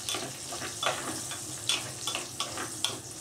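Bacon fries in a pan, giving a steady close sizzle with scattered pops and crackles and no voices.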